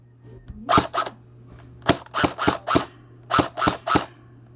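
A TG ARP9 V3 airsoft gun on an 8.4 V battery fires short full-auto bursts of sharp close snaps in three quick clusters, with a faint steady hum underneath.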